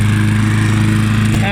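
Mountfield M4 petrol lawn mower running steadily, a loud close engine drone with a strong low hum, shifting slightly near the end as a voice begins.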